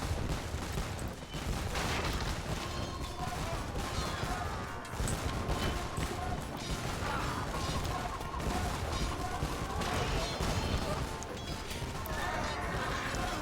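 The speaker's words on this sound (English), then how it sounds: "We've got a cannon here from DE." Cannon fire booms in an Age of Empires battle, with repeated heavy blasts and crashes packed densely through a loud, continuous clash of combat.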